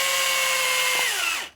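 A power drill whirs steadily as it drives screws into the bead lock ring on an RC 4x4 truck wheel, its pitch sliding down as the motor loads up before it stops abruptly, close and loud without talk.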